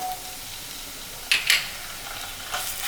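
Curry leaves and ginger-garlic paste hit hot oil in a pan for banana fry, giving a faint steady sizzle broken by a couple of short, sharp crackling bursts and a later softer pop.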